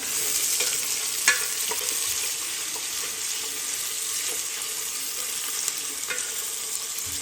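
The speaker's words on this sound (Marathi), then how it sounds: "कांदा मस्त परतून घ्यायचा" Chopped onion sautéing in a pan for paneer rice, a dense, steady frying sizzle close up, punctuated by occasional faint clinks and scrapes of stirring.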